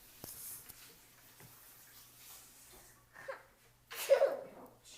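A two-year-old toddler's fake sneeze, a short breathy burst near the end following quiet breaths and small vocal sounds, close and fairly soft.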